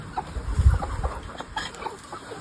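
Chickens cluck softly and intermittently nearby, a few short clucks scattered over low background rumble.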